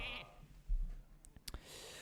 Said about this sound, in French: On va donc lui mettre un mouton sur lui.